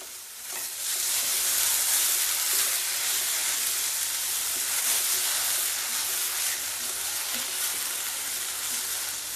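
Tomatoes frying in a pan for a healthy cluster bean and green gram palya, with a steady, close sizzle and crackle and soft stirring scrapes that carry on throughout without any voices.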